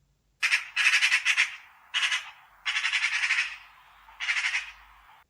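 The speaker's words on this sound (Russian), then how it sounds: "Вот прилетела сорока, трещотка, стрекотунья. Послушайте, как она поет." Eurasian magpie giving harsh rapid chattering rattles in four separate bursts, loud and close, with short gaps between them.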